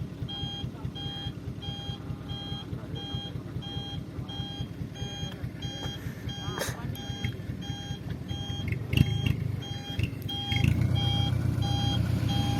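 A 4x4 truck reverses through a muddy pool with a steady, evenly repeating reversing beeper over a low engine drone that swells louder toward the end.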